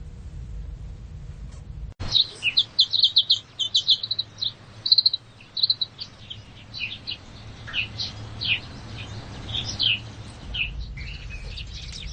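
Sparrows chirp in quick, bright bursts that start suddenly, cluster densely for a few seconds, then thin out into scattered tweets over a low steady hum.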